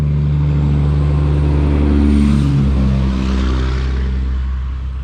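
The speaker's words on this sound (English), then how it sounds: "We are on a busy road, so I apologize for any road noise." Steady traffic rumble from cars and trucks passing on a busy roadside, a loud continuous low drone that swells as a vehicle goes by and then fades slightly.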